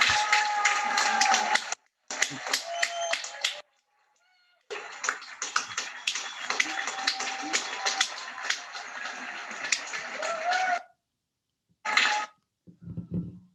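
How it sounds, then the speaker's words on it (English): Scattered hands clap continuously from a distance as residents clap from housing estate buildings, echoing between them, with brief pauses and a short final burst. "sounds coming out of human bodies, hands clapping or banging pans for additional clamor"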